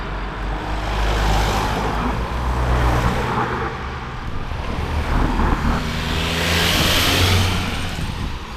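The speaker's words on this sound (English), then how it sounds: "That's a lot of cars." Steady roar of many cars streaming past on a busy road in Slovakia, engines and tyres swelling and fading continuously, loud and close throughout with no talk.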